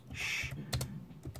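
Keys clatter on a computer keyboard as a command is typed, a short burst of close, crisp clicks with a few separate taps after it and no talking.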